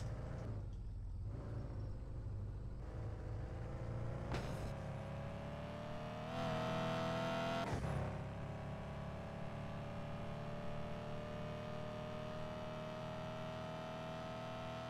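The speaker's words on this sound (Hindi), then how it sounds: "क्या मस्त आवाज़ है गाड़ी की" A limited-edition car in a driving video game revs continuously while on the move, its engine tone rising and falling with a louder surge around the middle, with no talking.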